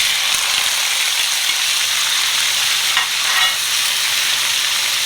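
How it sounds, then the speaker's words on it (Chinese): Tofu frying in a hot pan in a home kitchen, a steady, loud, close sizzle that holds evenly throughout with no voices. "豆腐煎一下"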